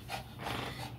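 A chubby dog pants hard after running indoors, with three quick breathy bursts close by in a steady rhythm and no talking.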